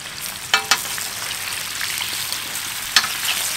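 Potatoes and meat frying in hot oil in a large pan, a steady bright sizzle with a few sharp pops and stirring clatters near the start and later on.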